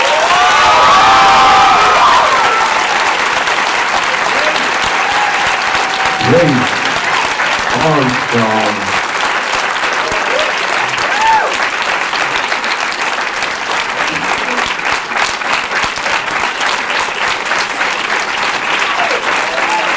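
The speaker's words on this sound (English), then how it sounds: "So while you're clapping, keep making some noise for all of our performers tonight." A school performance audience claps and cheers loudly for performers, dense sustained applause with some children's shouts, while a voice speaks over the crowd near the start.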